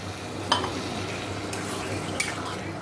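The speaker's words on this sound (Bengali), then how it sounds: "আবার ঘুগনি আর আলুটা ঢেলে দিয়েছি, ঢেলে ভালো করে কষিয়ে নেব।" Ghugni and potatoes with spices are stirred in a pan, making a faint, steady scraping with a soft sizzle and a few light utensil clinks.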